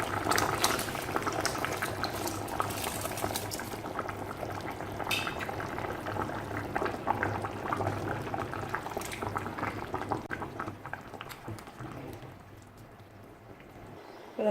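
Water with rice boils steadily in a pot for potato biryani, a continuous bubbling and simmering hiss that stays close and even, fading slightly near the end.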